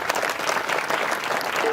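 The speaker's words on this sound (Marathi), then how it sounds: "या जोडीसाठी एकदा जोरदार टाळी वाजवा." An audience at a Marathi kirtan during a devotional reading gathering applauds two mridangam players, a brief dense burst of many hands clapping at once, loud and steady throughout.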